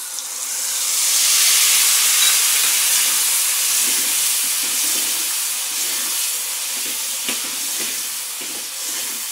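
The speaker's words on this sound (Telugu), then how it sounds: "ఇప్పుడు మనం ఇందులోనే నిమ్మకాయ జ్యూస్ ఇందులో పోసుకోవాలి." Lemon juice hitting a hot pan of tempered spices for lemon rice, a loud steady sizzle and hiss that swells early and then settles, with faint stirring clicks, no voices.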